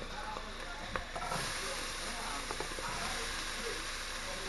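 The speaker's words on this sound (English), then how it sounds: "I'm going to put the onions and the peppers in" Onions and peppers hit a hot pan and sizzle with a steady broadband hiss, a few small pops scattered through, continuous and fairly close throughout.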